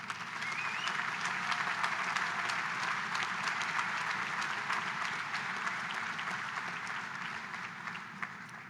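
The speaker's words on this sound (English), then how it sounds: "let's give our parents and our friends and our family a round of applause" Sustained applause from a commencement audience at a 2021 engineering school graduation, a dense steady wash of many hands clapping throughout, slowly easing toward the end.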